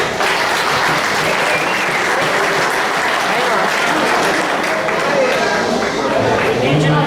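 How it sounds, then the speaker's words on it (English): A general meeting audience applauds its sponsors, loud, dense clapping filling the room continuously, with crowd murmur mixed in. "Why don't we give them a round of applause?"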